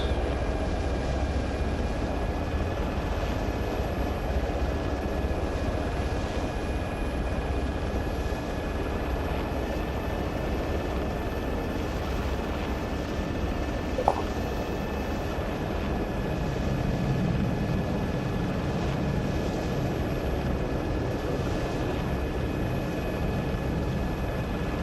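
A helicopter in the ArmA 3 game gives a continuous, steady rotor and turbine drone with a faint high whine, heard alone from start to finish with one brief click partway through.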